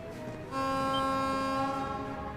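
A freight train carrying tanks in the video game Trails of Cold Steel sounds a sustained horn blast, a steady tonal wail lasting about two seconds over faint rumbling rail noise.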